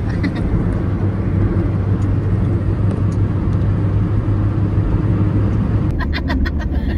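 A car drives fast across a highway bridge, giving a loud steady road and engine rumble with wind rush inside the cabin. Brief voices and small knocks come in near the end.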